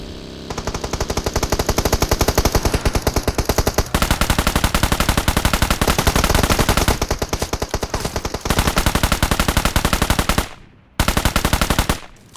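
Sustained automatic fire from a Honey Badger rifle in PUBG Mobile: loud, close, rapid bursts that run almost nonstop, with brief pauses and one short gap near the end.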